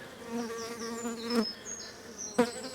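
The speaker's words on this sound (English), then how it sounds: "This is the frame that we brought in from a nice colony of bees" Honey bees buzzing around a brood frame lifted from a colony, several insects droning and whining at varying pitches close by, with individual bees swooping past.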